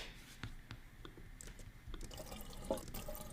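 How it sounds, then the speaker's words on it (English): Water drains, trickling and dripping steadily, with scattered droplets and a soft running texture, moderately faint and close, no voices. "then we had all the water draining."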